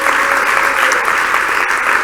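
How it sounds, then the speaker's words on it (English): Temple audience at a Sunday feast giving a round of applause, a loud, thick and even roar of many clapping hands close by, continuous throughout. "A round of applause."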